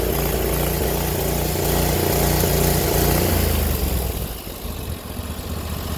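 An old 4HP diesel engine, cold-started and running unevenly, chugs with a steady low throbbing that drops somewhat quieter for the final couple of seconds.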